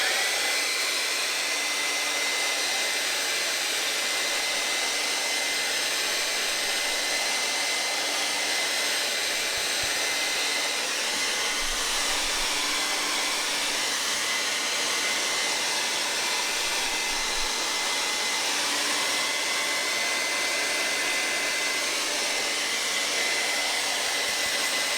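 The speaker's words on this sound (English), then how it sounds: "So I'm going to blow dry this real quick so that I can put paint on that side of it" A hair dryer blows steadily for about 25 seconds while drying paint on a hand-painted wooden snow sign, with a continuous loud broadband whoosh and motor whine and no speech.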